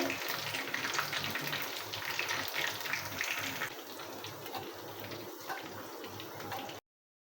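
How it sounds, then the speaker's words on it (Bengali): Chicken pieces frying in hot oil give a constant bubbling sizzle, with soft knocks as pieces are lifted out one at a time, fading slightly toward the end. "আমার চিকেনগুলো ভাজা হয়ে গেছে, এখন আমি এক এক করে সবগুলো তুলে নেব।"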